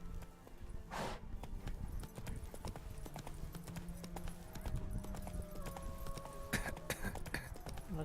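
Roach, the horse in The Witcher 3, gallops in a steady, rapid clip-clop of hooves throughout, with faint game music tones underneath and no talking.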